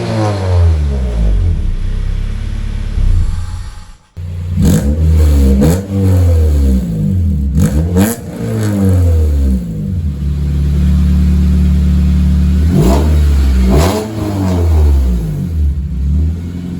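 Car engine revving hard through a freshly swapped, welded-up exhaust muffler, a deep throaty roar rising and falling in repeated blips, with one brief cut near the start, loud and close with no talking.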